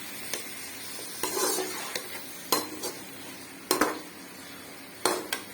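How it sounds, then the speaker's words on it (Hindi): Onions frying in a pot for a desi-style keema karela, a soft steady sizzle broken by several sharp spoon scrapes and clinks against the pot at irregular intervals. "हमने प्याज में डाला, ये फ्राई हो रहा है।"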